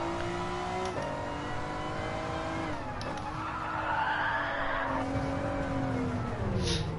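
Tires squeal and skid continuously as a car drifts in a PS4 racing game, the engine droning and shifting pitch beneath the screech, loud and steady with no talking.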